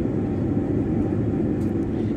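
Steady, loud engine drone of a small passenger airplane, heard from a cabin seat right beside the engine, a constant broadband roar with no talking.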